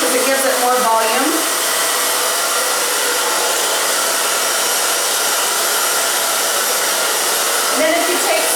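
Hand-held hair dryer blowing loudly and continuously close by while hair is dried with a round brush, a strong steady roar with brief voice at the start and end.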